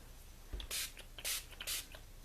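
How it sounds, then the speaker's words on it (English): Three short hissing bursts of a spray bottle misting Postbox Red dilution onto small art trading cards, evenly spaced and close by, with no voices. "So I'm going to spray all of my cards"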